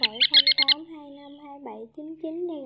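Recorded lure call of migrating ruff and plover used for night net trapping: a burst of sharp, loud squawking calls repeated rapidly, followed by drawn-out tonal whistling cries, close and clear with no talk.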